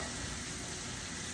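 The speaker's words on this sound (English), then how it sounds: "And give that a stir." Rice with a pat of butter is stirred in a hot pan, giving a steady soft sizzle and a gentle scraping hiss that stays even and close throughout.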